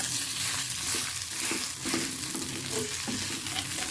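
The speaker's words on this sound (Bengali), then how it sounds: "চিকেনগুলো ভালো করে ফ্রাই করে নেব। দিয়ে দেবো সেদ্ধ করে রাখা আলু" Chicken pieces and boiled potatoes fry in a pan while being stirred, a thick steady sizzle with dull scraping and turning sounds close by and no talk.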